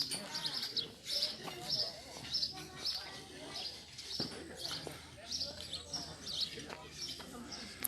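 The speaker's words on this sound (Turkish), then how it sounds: "Güzel kuşlar ötüyor." Birds chirp and call repeatedly at a scenic viewing terrace in Geyve, with a soft cooing mixed in, under steady people's chatter and ambient outdoor noise throughout.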